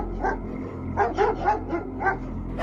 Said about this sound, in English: My family had 2 border collies, and as we were changing positions, the dogs wandered in and started barking at us.